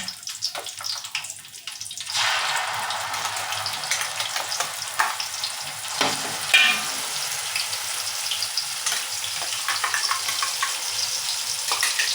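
Onion, tomato and chili paste hits hot oil for a village-style fish curry, bursting into a loud, steady sizzle that rises sharply after a quiet start and crackles on continuously close by, with no talking.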